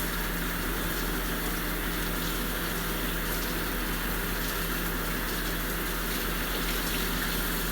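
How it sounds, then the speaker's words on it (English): Water runs steadily into a kitchen sink to fill dishwater, a continuous even gush and hiss with no pauses and no voices. "I'm going to deal with the dishwater as well."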